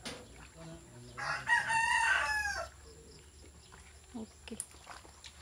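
A rooster crows loudly for about a second, with scattered clucking and faint background noise before and after.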